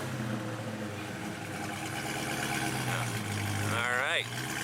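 A Dodge Hellcat engine rumbles on its first start through stock exhaust with a cat delete, a steady deep idle with a brief rev, while a voice speaks over it.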